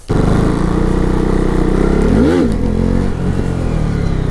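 KTM Duke 390 motorcycle engine running loud and close, holding a steady drone before a sharp rev rises and falls midway, then settling back to a rough idle.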